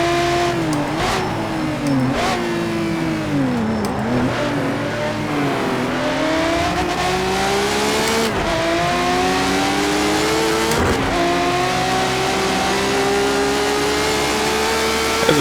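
Race car engine in Project CARS 2, heard while driving a road car through corners: a loud, continuous revving drone that climbs and drops with repeated gear shifts and throttle lifts, close-up and alone, with no talking.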